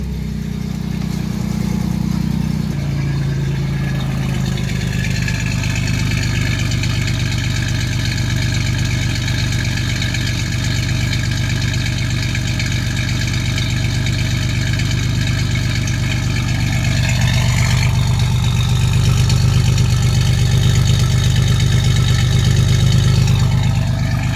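A Chevrolet Celebrity Eurosport with a gutted catalytic converter and a Pontiac 6000 muffler idles after a cold start, loud and rough and close, with a steady rumble that swells slightly toward the end.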